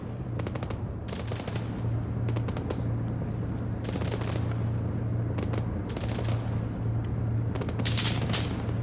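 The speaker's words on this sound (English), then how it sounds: "Incoming rounds." Incoming gunfire in an Arma 3 milsim platoon defence: sustained, rapid bursts of automatic fire crackle without pause, with scattered heavier booms over a steady low rumble.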